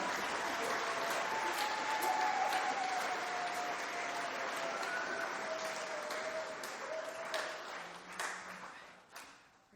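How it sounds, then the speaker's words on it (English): A home crowd applauds steadily at a high school spring band concert, with sustained clapping from many hands and a few cheers that taper off near the end, while a voice speaks faintly underneath. "Everybody, will you please stand up and recognize some applause from your home crowd?"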